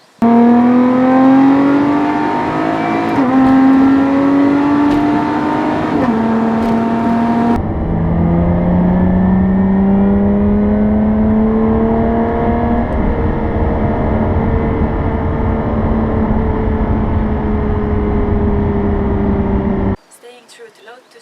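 A Lotus Evora 400's supercharged V6 engine revs hard, its pitch climbing through several gear changes and then holding a long, loud, rising drone before cutting off.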